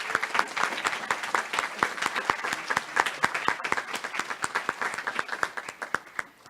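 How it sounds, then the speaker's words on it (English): A round of applause from an audience at an HIV/AIDS awareness day event: a steady patter of many hands clapping, moderately loud and continuous from start to finish. "I would please ask everyone to give Ms. Bazan a round of applause"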